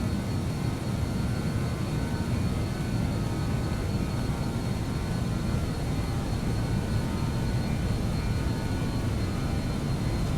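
Steady, loud broadband roar of BAe-146 jet engines at takeoff power, a constant drone filling the cabin without a break and with no voices.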